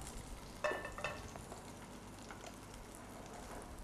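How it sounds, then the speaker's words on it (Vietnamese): Salmon fillet frying in a pan, a soft steady sizzle with a couple of brief clinks near the start, faint throughout with no talk. "cá hồi mình chỉ chiên mỗi một mặt là 2 phút là được"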